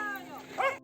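A dog gives a short bark and yip close by, overlapping with a person speaking nearby in an outdoor village setting.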